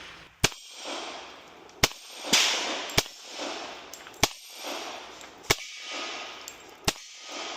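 Six sharp, loud gunshots from a Tisas Raider 1911 pistol at an outdoor range, fired slowly at uneven intervals of about one to two seconds, each crack followed by a brief echoing tail.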